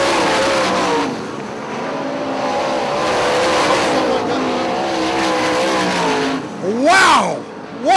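Sprint cars roar through a race at Hartford Speedway Park, a dense, loud engine drone holding steady with shifting pitch, then a sharp rising-and-falling whine as a car passes close near the end, with an announcer talking over it.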